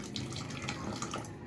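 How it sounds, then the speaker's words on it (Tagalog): Hot water runs from a tap or kettle into a container for a flaxseed hair-color mix, a steady close splashing stream lasting about a second and a half with no voices. "Lalagyan na natin siya ng mainit na tubig."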